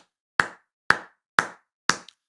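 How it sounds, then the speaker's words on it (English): Four sharp, evenly spaced hand claps, about half a second apart, form a slow, deliberate clap, close and alone in silence. "Slow clap for college football"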